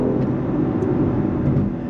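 A BMW X3 M Competition SUV in sport mode accelerates, its engine giving a steady, loud, close rumbling drone that holds gear without obvious shifts.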